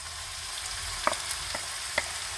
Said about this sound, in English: stove setting to high so that the onions can brown very quickly